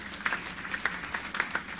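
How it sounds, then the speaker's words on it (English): Scattered applause from a church congregation at an Easter service rises and falls briefly, a soft, diffuse patter of many hands in a large room. "That's a good place to clap."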